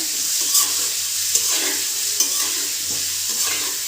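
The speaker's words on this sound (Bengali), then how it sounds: "ডিমটাকে ভেজে নিচ্ছি তেলের ভিতরে।" Steady crackling sizzle of an egg frying in hot oil, close by, with a few soft scraping stirs breaking through.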